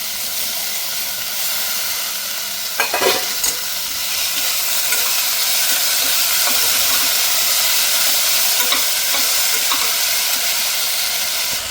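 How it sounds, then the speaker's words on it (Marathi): Peas and tomatoes go into a hot pan for a one-pot khichdi, setting off a loud, continuous sizzle and steam hiss close by, with a brief clatter early on and faint stirring throughout, no speech. "आता आपण यात मटार आणि टोमॅटो घालू."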